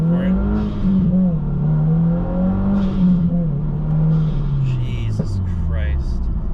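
A 2022 Subaru WRX running a DMann tune accelerates hard from inside the cabin, the engine note climbing steadily through the revs with a shift and a whooshing turbo sound near the end, loud and close, as a voice talks over it.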